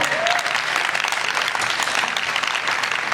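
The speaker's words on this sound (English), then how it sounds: "please, round of applause for her." Audience applause for an honoree at a women of color awards ceremony, dense steady clapping from a crowd for the full stretch.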